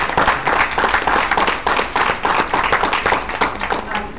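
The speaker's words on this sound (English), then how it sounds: "No, let's give them a round of applause." Applause from a room audience at an organization's meeting, dense overlapping claps rolling steadily for several seconds, fairly close and loud with no pauses.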